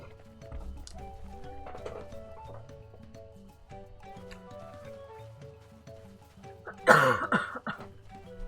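A single harsh, close cough bursts out near the end, breaking a quiet stretch with soft background sounds.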